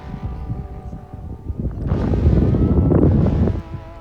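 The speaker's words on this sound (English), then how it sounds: "You can hear just how windy it was too." Gusty wind buffets the microphone on a golf course, a low roaring rumble that swells into a strong gust midway, then eases, with no talking.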